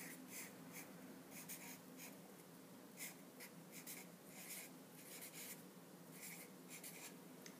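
Pen or pencil scratching across paper while a chemical name is written out by hand, short irregular strokes with brief pauses, faint and close against a low steady hum.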